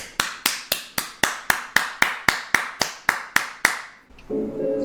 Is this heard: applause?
yes